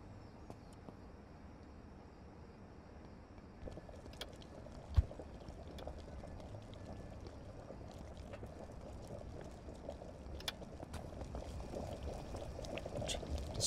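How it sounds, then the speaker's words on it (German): Liquid simmers in a brewing pot in the video game Brewpub Simulator, a steady low bubbling hiss with scattered small pops and clicks, moderately quiet and continuous throughout. "Das kocht jetzt ein bisschen."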